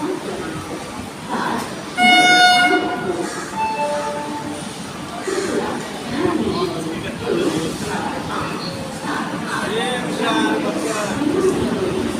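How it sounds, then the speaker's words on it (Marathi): A train horn blares briefly at Panvel station, then the rumble of an approaching train continues under background chatter and station noise. "ही बघा ट्रेन येतं इकडे."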